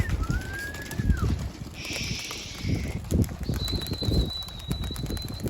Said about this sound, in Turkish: Burada kuşlar uçuyor ya.